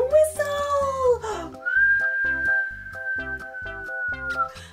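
A child whistles to imitate blowing wind, one long sustained tone sliding gently, with short background beats and musical tones running underneath.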